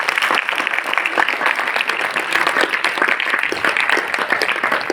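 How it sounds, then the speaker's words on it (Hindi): An audience at the Azamgarh book fair claps loudly and steadily, a dense wash of applause that continues throughout without pause. "अपने लिए एक बार जोरदार तालियां बजाइए।"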